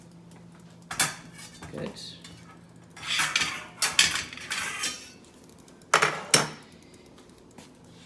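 A pan on a home kitchen stove knocks and scrapes in a few sharp metallic clatters as butter is melted for sautéing onions and mushrooms, with a brief spoken word and a low background hum.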